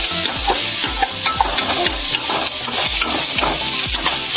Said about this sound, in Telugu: బ్రౌన్ కలర్ వచ్చేలాగా వేయించుకున్నాం.